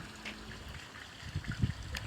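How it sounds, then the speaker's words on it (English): Water runs down a rock waterfall into a backyard pool in Encinitas, making a soft, continuous trickle and splash with a few louder bubbling gurgles toward the end. "That rock waterfall on the pool."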